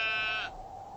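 A sheep near a farm field bleats once, a loud, close, wavering cry that breaks off midway, leaving a low steady background hum.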